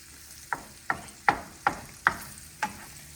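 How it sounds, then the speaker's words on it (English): A spoon scrapes in steady strokes through flour mixed into sausage grease in a pan, six distinct scrapes about every half second, with a faint sizzle running underneath. "stir that really well to get it combined with the grease"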